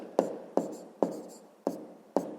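Pen tapping and scratching numbers into a school notebook during a fifth-grade maths exercise, five short crisp strokes at a steady rhythm, close and quiet, with no voices.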